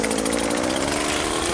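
A lawn mower engine runs loud and close at high throttle, a dense, steady buzzing roar with no pauses.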